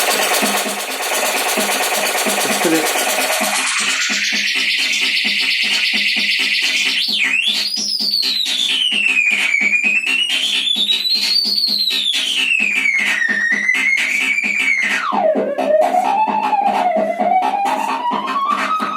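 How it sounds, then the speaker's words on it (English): A Korg Volca Bass synthesizer with its FM mod switched on produces a harsh, buzzy pulsing drone that sweeps down, then turns into a warbling, whistling pitch that rises and falls in slow waves. A short spoken phrase comes in early. "This switch here is a FM mod that I've done for it."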